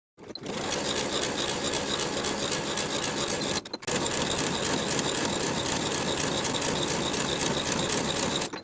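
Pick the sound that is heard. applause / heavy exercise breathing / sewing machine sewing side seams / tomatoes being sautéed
sewing machine sewing side seams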